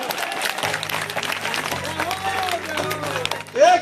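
Audience clapping at a live stage event in honour of the BJP Delhi president fills the whole stretch as a dense, steady patter, with a low sustained hum and a voice rising over the end.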